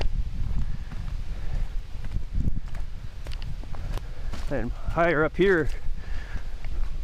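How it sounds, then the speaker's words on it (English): Steady wind rushes and buffets the microphone on a hike in Beaver Creek Valley State Park, Caledonia, Minnesota, with footsteps and a person speaking briefly over it. "It's a windy day today"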